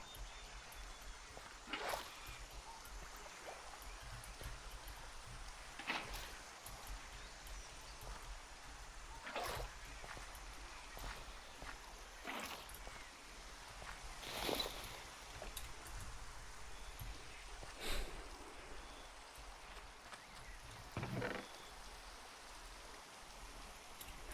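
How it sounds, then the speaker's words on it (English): Steady rain falls in a video game, a continuous even patter with scattered louder drops, heard alone without talk for the full stretch. "No, it's just raining."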